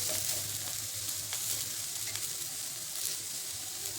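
Onions frying in a pan for a Maharashtrian katachi amti, a steady dense sizzle holding close and even throughout with faint low hum underneath.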